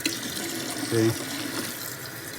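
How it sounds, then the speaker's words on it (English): Water runs into a toilet tank through a newly installed fill valve, a steady hiss and splash heard up close. Someone says a short word over it. "Can you see the water going in?"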